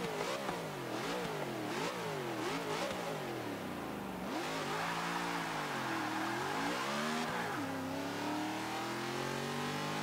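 A NASCAR race car in the Forza 6 racing game revs hard and shifts, its engine pitch climbing and dropping in sweeping waves, loud and continuous with no talk over it.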